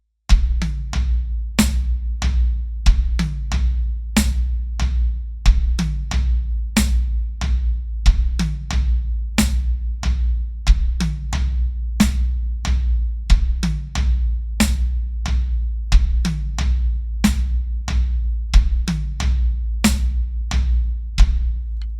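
A tom groove played on a drum kit, bass drum and floor tom thudding in a steady sixteenth-note pattern, loud and close with sharp repeated hits and no talking.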